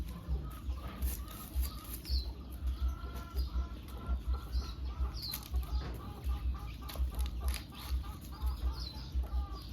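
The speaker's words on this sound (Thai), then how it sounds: "พวกนี้จะเป็นไก่แข้งลึกครับ" Thai game fowl (fighting roosters) cluck repeatedly over a steady low background hum, with sharp crowing-like calls and occasional bird chirps mixed in.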